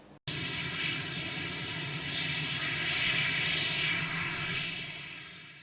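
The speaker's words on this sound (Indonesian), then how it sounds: "Trump kemudian menumpangi Marine One, yakni helikopter kepresidenan yang menerbangkannya ke Gedung Putih" Marine One, the presidential helicopter, flies with a steady loud whooshing, hissing engine and rotor drone. The drone swells slightly, then fades near the end, with no talk.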